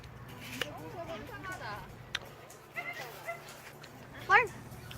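Dogs at an apple orchard in South Korea bark and whimper at moderate distance, a few short yips and whines spread across the clip, with people talking nearby.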